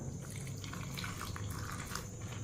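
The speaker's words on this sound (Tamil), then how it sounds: "தண்ணி கொஞ்சம் ஊற்றிக்கிடுவோம்." Steady trickling of water pouring into a mixer jar of tamarind for a ragi recipe, soft and continuous, with no talking.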